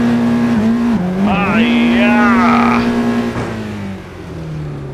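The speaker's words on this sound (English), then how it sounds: "Boring engine sound." A 2026 Honda Prelude engine hums at a steady, near pitch while cruising on a California highway, and a voice exclaims over it before the drone eases off.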